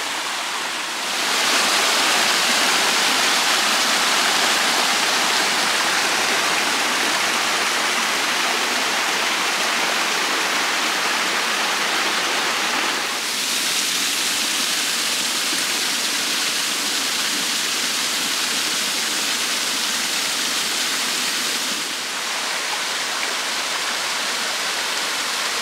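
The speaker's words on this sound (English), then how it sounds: "More importantly, running water." Running water of a stream at Rainbow Springs State Park, a steady broadband rushing and splashing that holds loud and close for the whole stretch, with a slight shift in texture partway through and no voices.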